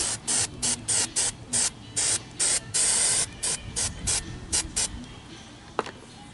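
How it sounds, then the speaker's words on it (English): Short bursts of 3M spray adhesive hissing close by from an aerosol can, a quick series of puffs followed by a couple of longer sprays, then a faint click. "gonna take a little 3M spray."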